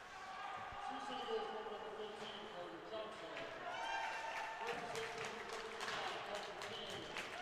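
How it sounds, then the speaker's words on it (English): Crowd noise at a varsity ice hockey game in an arena, a distant, fairly faint swell of cheering and chatter lasting throughout, with no commentary over it. "getting some cheers from the crowd here"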